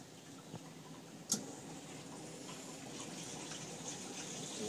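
Hobart commercial dishwasher draining water, a steady low wash of flowing liquid with a brief knock near the start, moderately faint and continuous without voices.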